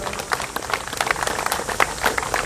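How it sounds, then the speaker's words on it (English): Audience applause at a parliament petition event for a Pacific community visitor visa campaign, a steady crowd of many hands clapping densely and fairly close throughout, with a voice faintly beneath. "Round of applause for our Heavenly Father"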